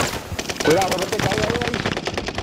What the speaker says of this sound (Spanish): Cuidado, que están disparando de allá.